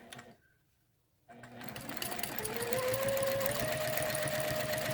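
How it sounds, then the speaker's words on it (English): A domestic sewing machine does straight-line quilting, starting after a brief quiet gap, then running in a steady, continuous whir that slowly speeds up, close and clear, with no talking. "I've got the presser foot going evenly spaced between those 2 lines"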